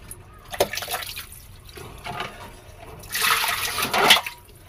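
Water trickles and splashes through a drain canal behind a kitchen sink, faint at first, then rushing more strongly for about a second near the end.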